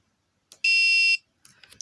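A single steady electronic buzzer tone at the note G4 sounds for about half a second, bright and piercing, with faint clicks before and after it.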